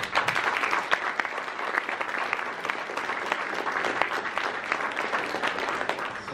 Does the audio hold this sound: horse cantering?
no